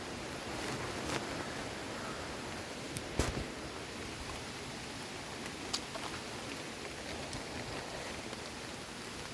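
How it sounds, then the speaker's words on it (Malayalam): Raindrops fall in a steady, soft patter in daylight, a fine continuous wash with a few louder individual drops tapping nearby, and no voices. "മഴത്തുള്ളി പോകാണ്."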